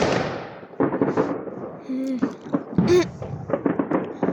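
Fireworks and firecrackers going off on New Year's Eve, a string of sharp bangs and crackles near and far, with a whistling rocket rising midway and people chatting underneath throughout.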